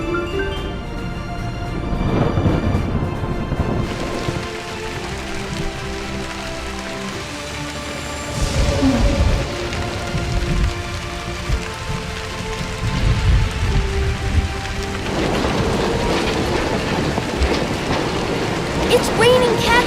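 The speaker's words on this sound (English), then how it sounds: "It's raining cats and dogs!" Heavy rain pours steadily on surfaces with occasional rumbles of thunder, a dense continuous hiss rising and falling in intensity over nearly twenty seconds, with a voice talking over it.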